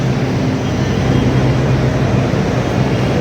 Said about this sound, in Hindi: अभी आएगी हमारी मेट्रो।